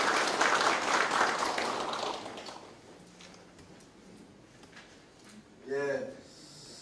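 Audience clapping for director Kim Seok-cheol at a 2020 farming education session in Icheon. It is loud at first, then fades away as a voice begins speaking.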